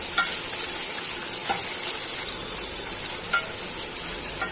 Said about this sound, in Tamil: இதை தனியாக வதக்கி எடுத்துக்கிறோம்.